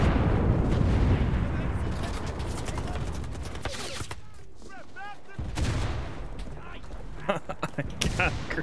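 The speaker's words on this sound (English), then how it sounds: "I got a grenade launcher kill on this guy." Booming weapon fire and blasts from the Enlisted video game, including grenade launcher shots, sound as heavy, rumbling bursts. A quieter lull falls midway before the firing picks up again, and voices may be present underneath.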